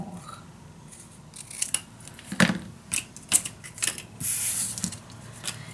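Paper being cut with scissors for a craft storage unit, a series of crisp close snips and slices in an irregular rhythm with no talking.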